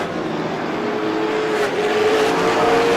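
Race cars roar around Star Speedway during a GSPSS feature race, a loud, steady engine drone that swells slightly as the pack passes close by, with no talk over it.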